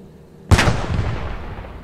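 A tank cannon fires in the video game Post Scriptum, a single sharp, loud blast that rings out and decays into a long rumbling tail.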